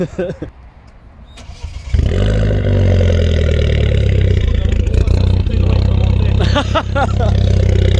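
A Mini Cooper S fitted with a Miltech exhaust cranks and fires up, then settles into a loud, steady, throaty idle close by, with a few brief blips of the throttle near the end and a voice talking in the background.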